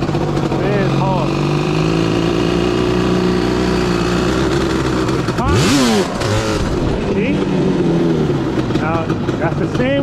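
Yamaha Banshee ATV engine revving hard during a wheelie attempt in fourth gear, loud and close, with rising and falling throttle sweeps and a sharp burst near the middle, over a steady idle drone.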